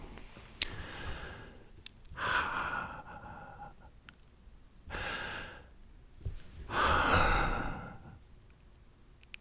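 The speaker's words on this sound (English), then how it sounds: "Take a deep breath with me." Slow, deep ASMR breathing close to the microphone: four long, soft breaths in and out, evenly spaced with quiet pauses between, plus faint clicks.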